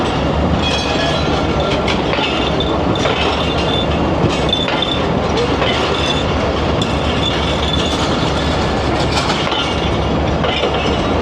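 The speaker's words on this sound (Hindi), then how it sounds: "एक तेज़ रफ्तारी से एक रेक आ रहा है रिवर्स में" A fast-moving passenger train rake runs in reverse into a station platform, giving a loud, steady rumble with rhythmic clickety-clack from the wheels and occasional metallic squeal, continuous throughout with no voices.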